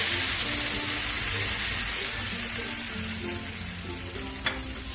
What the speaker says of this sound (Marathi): आता फोडणी आपली या चटणीवरती घालूया.